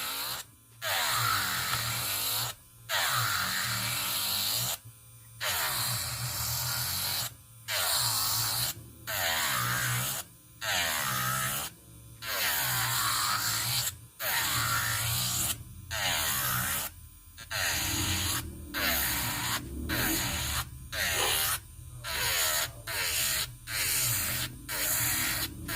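A Delanie rechargeable electric nail file set to 5,000 RPM whines in a series of short bursts of about a second each, separated by brief pauses, with a steady high-pitched motor tone and no talking.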